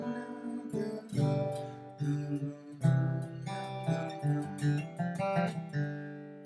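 An acoustic guitar runs through a G Mixolydian scale in a bluegrass style, with plucked notes and strummed accents in irregular bursts, close and clear, with no talking.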